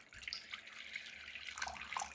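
Tap water splashes and trickles into a container for mixing sourdough, a soft continuous close pour with bright bubbly splatter, quiet and uninterrupted with no talk.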